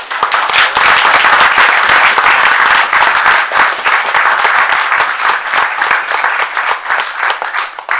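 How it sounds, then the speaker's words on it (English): Wedding guests give the chef a loud, sustained round of applause at a reception, many hands clapping densely and evenly throughout, close and continuous with no talk over it. "So a round of applause"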